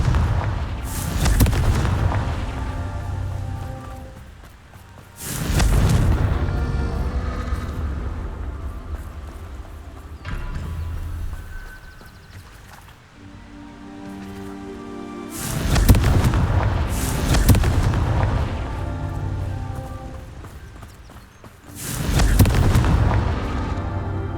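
Repeated Confringo fire-blast spells burst in Hogwarts Legacy, each one a loud booming explosion with a rumbling tail, landing roughly every five seconds between quieter stretches of game ambience, without speech.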